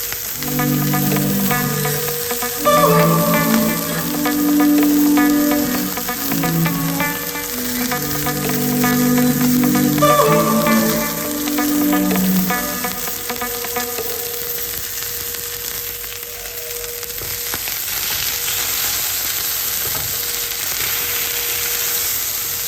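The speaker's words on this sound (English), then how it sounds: "Sear into well brown about 1 minute on each side." A NY strip steak sears in butter inside a multi cooker, giving a steady, close sizzle that holds throughout with a faint tonal hum beneath it and no talking.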